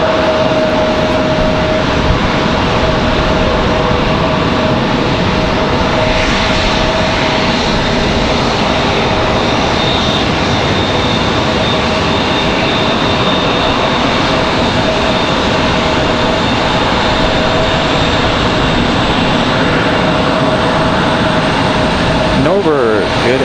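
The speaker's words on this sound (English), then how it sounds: "We got a Southwest on the move, headed out." Southwest airliner taxiing out for departure at Raleigh-Durham airport, a steady loud engine roar and whine filling the whole stretch with no break.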